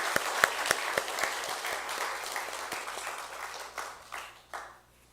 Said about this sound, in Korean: 이 시간 축하와 격려의 박수를 하시겠습니다.